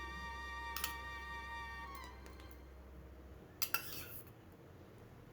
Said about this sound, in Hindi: अब इसमें 3 चम्मच घी की डाल देंगे।